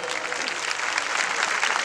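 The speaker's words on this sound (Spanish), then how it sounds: "quiero sentir el aplauso para que se vaya Dayanita" Dense, steady audience applause at a live comedy show in Chimbote, a continuous wash of many hands clapping at close range with no talk over it.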